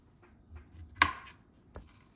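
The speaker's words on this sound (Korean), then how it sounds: "상추와 배에 먹기 좋은 크기로 잘라주고요." A knife cuts lettuce and pear into bite-size pieces on a board, giving a few soft thuds and one sharper, louder chop near the middle, close by with no voices.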